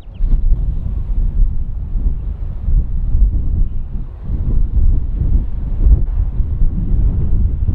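Strong wind buffets the microphone with a steady, heavy roar and low rumbling gusts throughout.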